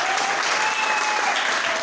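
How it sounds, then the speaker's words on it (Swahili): A church congregation applauds, with dense, sustained clapping that stays close and loud for the full stretch, a faint tone drifting above it. "Mpe makofi mazuri"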